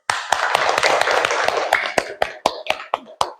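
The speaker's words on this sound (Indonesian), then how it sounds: "Coba tepuk tangan dulu." A school class claps hands together, starting as dense rapid clapping from many children and then thinning into a few separate, sharp claps near the end, close and loud in a classroom.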